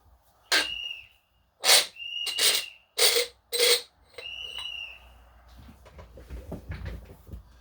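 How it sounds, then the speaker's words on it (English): Five bright whistle tones sound one after another during coin ring making, each with a steady high pitch and overtones. They come close and loud with short gaps between them, and a soft clattering workshop noise follows. "Interesting to have a whistle going on."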